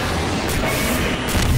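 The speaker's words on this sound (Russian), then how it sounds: "Еще один залп пошел." In the game Garry's Mod, a warplane fires a heavy volley at Godzilla, producing a loud, dense roar of booming blasts and rumbling fire that continues without pause, with no talk over it.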